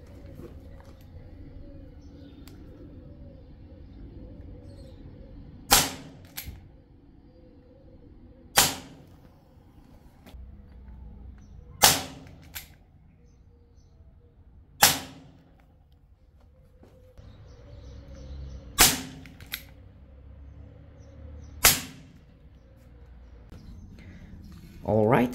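An air gun fires into cardboard targets: seven sharp, loud shots spaced a few seconds apart, with quiet stretches in between and occasional soft talk.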